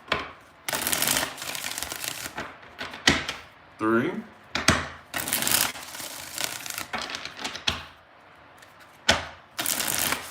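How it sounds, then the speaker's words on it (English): Tarot cards are shuffled in a series of quick, crisp riffling bursts separated by short pauses, while a voice talks and counts between the shuffles. "Let's get 7 shuffles for your first spread."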